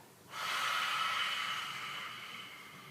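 During a yoga sequence on hands and knees, a forceful open-mouthed exhale rushes out close and loud, a single breathy hiss that swells and slowly fades.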